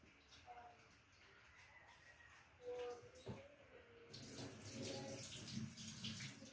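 Tap water runs and splashes as squid is rinsed in a kitchen sink before being cooked into adobo, a faint trickle at first that swells into a steadier, louder hissing stream.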